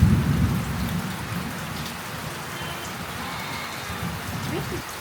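Steady heavy rain falls on surfaces at a farm, a dense continuous hiss that sounds close and sits over a low rumbling background.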